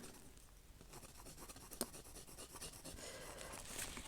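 Soft scratchy strokes of colouring pencils on card, a quiet irregular rasping rhythm of colouring, close and faint with no voices.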